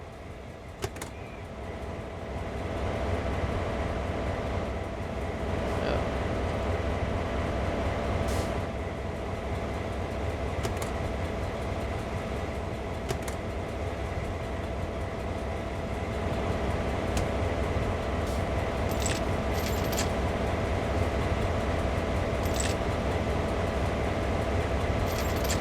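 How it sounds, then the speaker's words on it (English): ES44AC diesel locomotive set up as a trailing unit in Train Sim World 2 on the Horseshoe Curve, a steady low engine drone and rail rumble held for a long stretch, with a few faint clicks and no talking. "This is also an ES44AC, but set up as a trailing locomotive."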